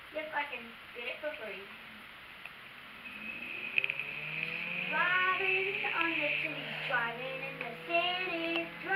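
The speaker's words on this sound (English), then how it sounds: "That's your car's exhaust" A car exhaust in the Roblox game Jailbreak gives a steady, moderate engine drone beneath frequent children's chatter that stays louder than the vehicle.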